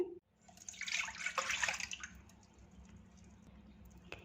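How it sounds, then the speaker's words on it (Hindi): Orange juice poured into a smooth cornflour mixture for an orange dessert: a short liquid splash and trickle, loudest in the first two seconds, then a faint drip and hiss. "इसमें ऑरेंज जूस को डाल देंगे।"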